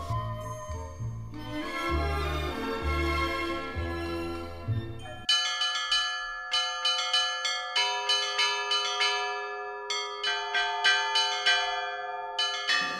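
Belarusian church bells peal from a bell tower, first a heavy, deep toll layered with chiming, then a lively run of bright, rhythmic small bells struck rapidly over sustained ringing tones, loud and without voices.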